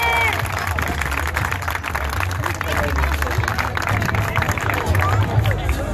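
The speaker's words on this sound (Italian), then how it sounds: "Un applauso, forza" Applause and cheering from a crowd at a beach marriage proposal in Sicily: dense, continuous clapping blended with lively crowd chatter over a steady low rumble, sustained throughout.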